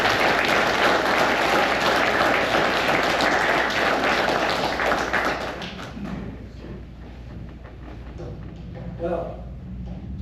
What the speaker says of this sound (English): So everyone give Steve a nice warm round of applause.